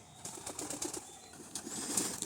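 Pigeons flapping their wings inside a flying and breeding loft, a burst of rustling wingbeats close by with soft shuffling in between, no voices.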